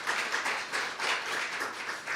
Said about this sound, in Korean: 진심 어린 축사를 해주신 백혜련 의원님께 다시 한번 큰 박수 부탁드립니다